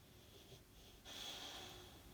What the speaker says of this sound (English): And there's the dog heavy breathing again.